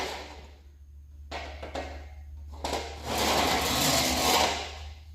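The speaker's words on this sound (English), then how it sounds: "this deburring tool works. So basically, you just run it along the edge of your material" A deburring tool is drawn along the edge of an aluminum sheet from a fuel tank repair, producing short scraping passes over a low background hum, the last stroke longer and louder.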